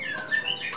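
Oriental magpie-robin (kacer) in a hanging cage giving a quick run of bright, shrill chirps and whistles, close and continuous for under a second.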